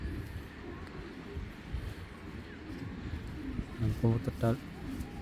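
Racing pigeons coo in a few low, throaty bursts toward the end, close by over a background of murmuring voices and faint traffic.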